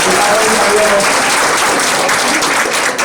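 Sustained applause from a seated audience at a motivational talk, many hands clapping in a thick steady wash that tapers slightly near the end.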